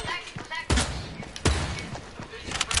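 Sniper rifle shots in a shooter game, two sharp booming cracks about a second apart, loud and close, each with a short tail, amid game noise and a voice talking.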